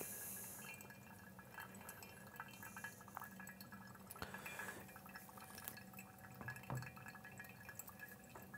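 Water poured over ground coffee in a V60 pour-over brewer, a faint, steady trickle with small drips and an occasional glassy clink, heard alone in a quiet room.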